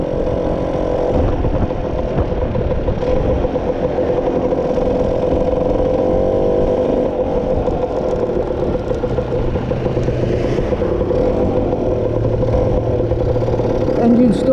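A Lambretta scooter with a 185 Casa engine runs steadily with a constant mid-pitched drone, close and continuous, while a person talks over it; the engine is warming up and running a little smoother.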